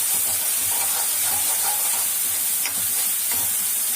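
Garlic cloves sautéing in a pan, a continuous dense hiss and sizzle with faint stirring scrapes underneath, steady and close throughout.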